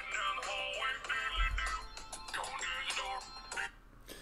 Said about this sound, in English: now without being interrupted by my Markiplier ringtone, that was a spam call